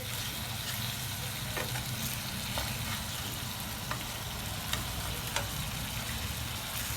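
Butter chicken pieces frying in a pan, a continuous close sizzle with a few faint ticks and scrapes scattered through, steady and alone without any voices.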